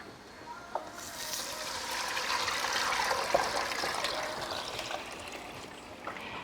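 Dark mushroom soaking water poured from a container onto spiced rice in a pot, a soft, continuous trickling stream that swells and holds steady for several seconds at moderate distance.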